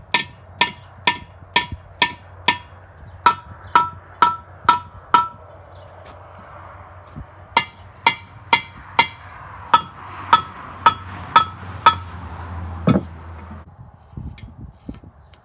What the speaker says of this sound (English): Now I'll tap on them with a big chunk of brass to help try and loosen the rust in the threads.